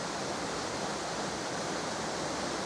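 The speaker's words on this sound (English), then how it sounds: "This is the top of the waterfall." Steady, dense roar of a waterfall heard from its top near an old Victorian playground area in Shropshire, a continuous broadband rush with no voices.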